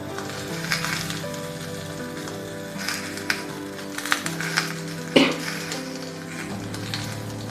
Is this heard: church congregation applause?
no